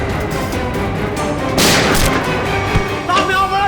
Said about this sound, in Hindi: इस कमरे से गोलियां चलने की आवाज आ रही है।